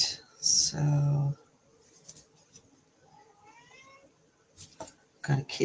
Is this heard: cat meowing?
yes